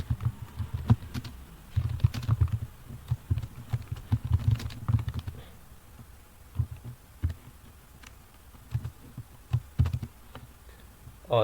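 Keys clatter on a computer keyboard while Java code is written, giving uneven bursts of close, crisp taps with short pauses, busier at the start and sparser later.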